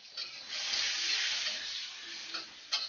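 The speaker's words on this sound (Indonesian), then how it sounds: "Tumis bawangnya sampai harum." Onions sautéing in a hot wok give a steady, close sizzle and hiss for the whole stretch, with a few stirring scrapes near the end and no talking.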